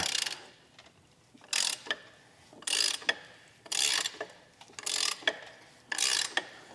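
An abandoned Evo 8 engine with its spark plugs removed is turned over by hand with a ratchet, six rhythmic bursts of ratcheting clicks and mechanical grinding separated by brief pauses, close and clear without speech.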